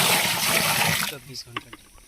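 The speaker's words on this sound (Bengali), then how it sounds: "এটা জল দেওয়া হচ্ছে" Water pours onto a urea mixture in a steady, dense splash that stops abruptly after about a second, leaving a few small drips and a voice speaking.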